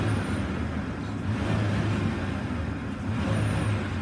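A 2001 Ford Ranger XLT pickup runs with its engine held at a raised, steady rev, a loud, dense rumble that stays constant with no talking.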